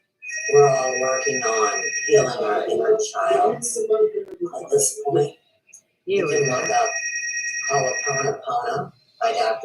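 A telephone rings in repeated electronic trilling bursts, one around the start and another a few seconds later, sounding under and between a woman's ongoing speech.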